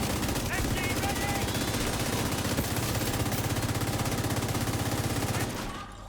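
Sustained rapid automatic gunfire in a video game, a loud continuous stream of shots emptying a full magazine into a turret, ending abruptly near the close.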